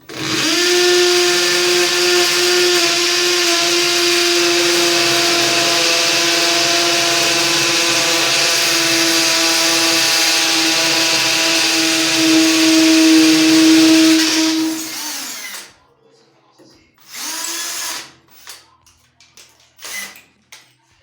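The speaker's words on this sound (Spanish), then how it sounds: "ya el taladro ya lo puse en la función de rotomartillo, y ya lo que va a hacer, digamos, ahora sí va a empezar a perforar más rápido el concreto" A hammer drill set to hammer mode bores through concrete behind wall tile, a loud steady whining grind for about fifteen seconds before stopping, followed by a few short bursts.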